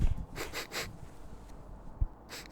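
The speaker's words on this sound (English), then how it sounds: "What are you doing? Smelling." A person sniffs at a hat in a few short, sharp bursts of breath through the nose, some grouped closely together and one coming after a pause, close up and with no talking.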